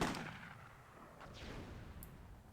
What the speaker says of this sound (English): I think I launched Spy with the cannon there.